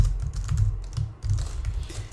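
Steady clatter of typing on a computer keyboard while entering program code, continuous close key clicks with a brief pause near the middle, no voices.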